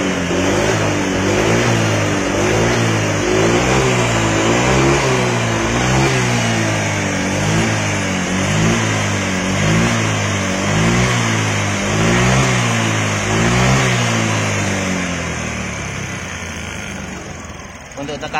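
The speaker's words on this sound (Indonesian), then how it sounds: "Kita nyalain motornya." A Honda Vario 125 fuel-injected scooter with a sputtering, hesitant throttle starts and revs, its mid-pitched engine pulsing in rhythmic surges close by before easing off, with people talking over it.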